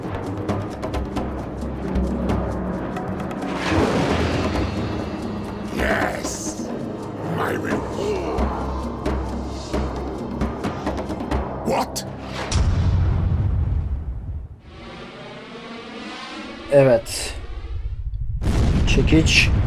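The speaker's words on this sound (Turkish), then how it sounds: "büyük bir patlama oldu" Heavy rumbling blasts and crashing booms roll through a loud, dense mix, with a deep explosion surging near the end amid voices, in the video game Age of Mythology.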